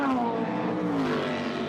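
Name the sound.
Mazda race car passing at Sebring 12 hours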